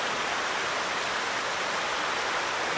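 Mill Creek rushes near its waterfalls in a steady, dense wash of flowing water, loud and close, unbroken for the whole stretch.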